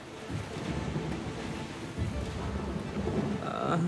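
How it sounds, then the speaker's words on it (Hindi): Heavy rain and rumbling thunder over a lake, a dense, steady roar of rain and low rolling thunder with choppy water, continuous and fairly loud, with no voices. "फिर भारी बरसात आई और झील का पानी उबड़ खाबड़ होने लगा।"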